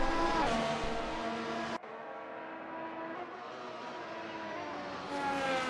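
Race car engine held at full throttle in the Hybrid Series racing game, Bahrain Grand Prix, a loud sustained high-pitched whine with a brief dip partway through and no voices.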